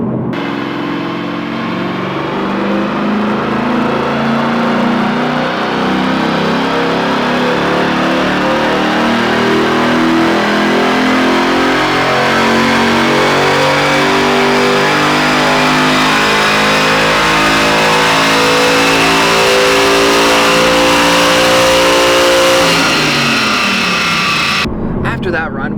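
A Ford Mustang Boss 302 V8 roars through a sustained full-throttle pull on a chassis dyno, loud and close, its pitch rising steadily for over twenty seconds before abruptly cutting off near the end.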